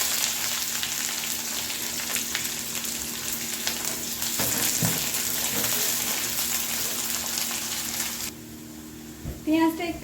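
Chopped onion goes into hot oil tempered with mustard seed, fenugreek, dried chilli and bay leaf, giving a strong, continuous sizzle with a few stirring knocks. The sizzle drops off sharply near the end, where a faint voice is heard.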